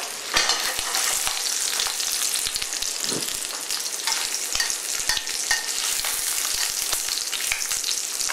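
Meat cooks in a pan over medium heat in a restaurant kitchen, producing a steady, close sizzle with crackling pops throughout and no talking.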